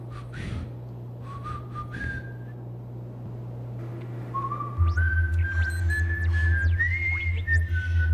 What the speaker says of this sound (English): Whistle if you're okay.